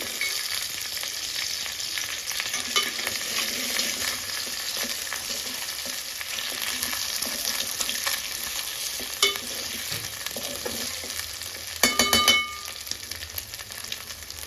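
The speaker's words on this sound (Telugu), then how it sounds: "అంటే త్రీ ఎగ్స్ అయితే యాడ్ చేశాను వెంటనే మిక్స్ చేయొద్దు" Three beaten eggs fry in a pan for a homemade noodle dish, giving a continuous loud sizzle. Stirring scrapes recur and a sharper clatter of rapid strokes comes near the end.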